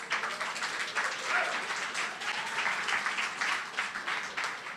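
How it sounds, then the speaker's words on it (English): Audience applause at a tech conference livestream for the CEO of Overclock Labs and founder of Akash Network, a steady wash of many hands clapping held at moderate level throughout. "Round of applause,"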